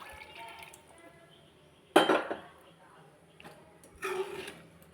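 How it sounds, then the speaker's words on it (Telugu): Tamarind extract is poured into a pan of egg curry, with two brief splashing bursts and a clink of utensil against the pan over a quiet kitchen background. "ఆ తర్వాత కొంచెం చింతపండు పులుసు పోసుకోవాలి"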